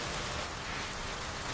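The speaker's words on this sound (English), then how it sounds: "Yes, it is raining very hard outside." Heavy rain falls outside as a dense, steady hiss of drops striking surfaces, with no pauses. No one speaks over the short stretch.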